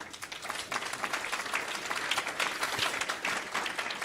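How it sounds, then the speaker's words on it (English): Sustained audience applause at a responsible-investment conference, a steady wash of many hands clapping at moderate distance, filling the whole moment without any talking over it. "Give them a big round of applause"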